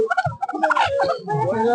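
Large desi and broiler chickens at a village market haat give close, busy clucks and squawks, mixed with people talking nearby.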